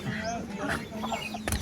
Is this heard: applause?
no